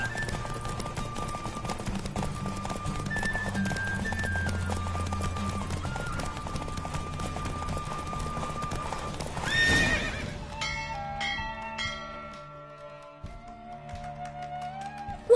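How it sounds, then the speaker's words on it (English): A horse gallops in a horse race in the video game Witcher 3, with rapid, steady clip-clop hoofbeats under game music and a whinny partway through, after which the hoofbeats give way to lighter tones. "Don't spare the horse! I adore the speed, the rush of air!"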